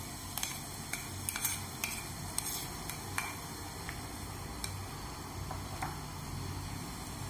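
Ground masala paste frying with onions in a pan, with a soft steady sizzle beneath sharp clinks and scrapes of a spoon against the pan, close by and without speech.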